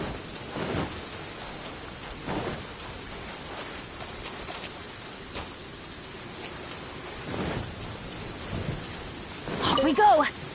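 In the video game Genshin Impact, steady rain hisses across a thunderstorm while several low thunder rumbles swell and fade, with a sharper crack of lightning near the end.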